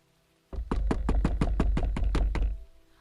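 Knuckles rap on a door in about eleven rapid, loud, evenly spaced knocks, close and insistent, with nothing else heard.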